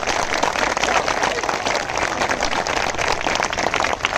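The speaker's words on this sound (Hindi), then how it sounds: "जो 60 नहीं कर सकते, वो ताली नहीं बजाएंगे, बाकी बजा सकते हैं" An audience at a protest gathering of UP TGT PGT teacher candidates claps on request, a dense, steady burst of applause heard close.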